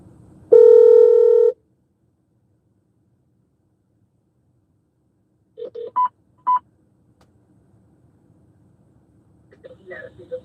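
A single long telephone tone sounds, then after a pause a quick run of short keypad dialing beeps follows, and faint tones resume near the end over quiet background.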